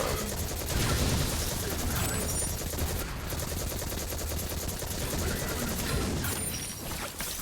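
A Monte Carlo auto rifle fires in a game amid crowds of thralls. Rapid automatic bursts crackle continuously and loud, with a few brief pauses and faint background game noise.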